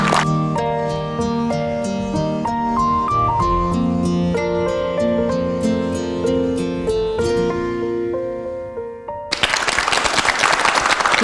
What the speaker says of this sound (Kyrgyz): Кол чаап коелу анда.